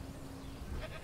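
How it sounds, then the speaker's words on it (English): Goats bleat in the dinosaur park game Jurassic World Evolution, a brief, fairly faint bleat over a low game background. "And I hear the goats."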